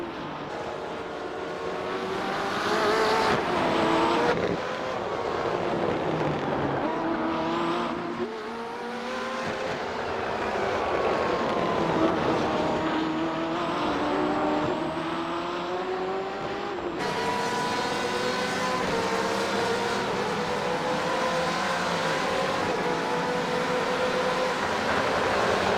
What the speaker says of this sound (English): And the sexy sounds of this BMW as well.